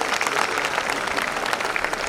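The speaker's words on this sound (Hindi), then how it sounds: "एक बार जोरदार तालियां हो जाए।" An audience at an Independence Day celebration bursts into dense, steady applause, many hands clapping together in a continuous roar that fills the room.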